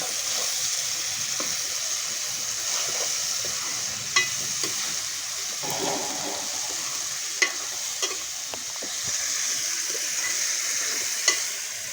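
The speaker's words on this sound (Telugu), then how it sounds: "నీరు మొత్తం ఎగిరిపోయేదాకా ఇలాగైతే మనం వేయించుకోవాలండి" Prawns fry with masala paste in a pan, a steady close sizzle running throughout with occasional scraping stirs and light clinks of a utensil against the pan.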